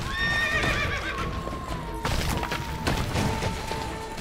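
A horse in The Witcher 3 gives a long, loud whinny over the steady clip-clop of galloping hooves, followed by heavy thuds and a second, shorter neigh as the running continues.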